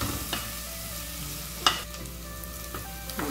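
Onion sautéing in a pan before ground beef goes in, a soft steady sizzle with a couple of sharp spoon scrapes against the pan, no talking.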